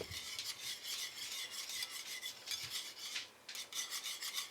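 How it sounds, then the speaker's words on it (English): Heavy whipping cream is stirred into a boiling pot for keto monster cookies, a soft rhythmic scraping and rubbing of a spoon against the pot, repeated in quick strokes and faint overall. "I am going to do my ½ cup of heavy whipping cream. We're going to stir that in."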